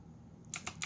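Quick keystrokes on a keyboard, three sharp clicks close together after a quiet stretch with faint background hum.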